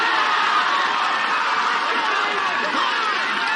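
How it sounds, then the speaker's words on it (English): An Iowa cheering section at an American Ninja Warrior semifinal roars as a dense, continuous wash of crowd cheering and shouting, loud and steady from start to end. "Man, those Iowa boys can make some noise now, can't they?"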